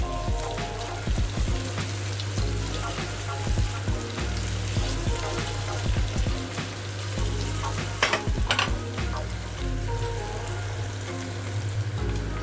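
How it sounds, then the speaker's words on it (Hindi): Paneer cubes frying in a pan for a paneer and capsicum gravy: a loud, dense, continuous sizzle and crackle with intermittent stirring clatter throughout. "ये हमें पनीर को ऐसा फ्राई करके लेना है"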